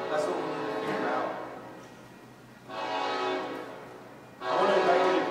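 Long loud blaring horn blasts from outside a church during a Sunday service in Portland, sounding in three sustained pulses with brief lulls between them.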